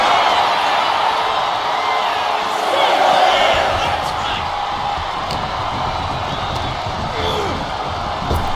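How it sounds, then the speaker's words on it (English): A crowd roars inside a WWE 2K25 wrestling match, a continuous arena wash that swells and stays steady under overlapping commentary voices. "She is feeding off this crowd right now."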